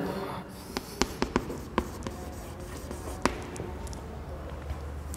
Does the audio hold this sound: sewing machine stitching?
no